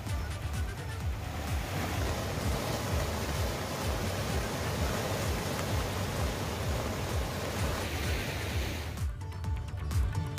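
Heavy monsoon rain pours steadily in Uttarakhand, a dense, even roar of falling water with no voices, continuing almost unchanged before thinning abruptly near the end.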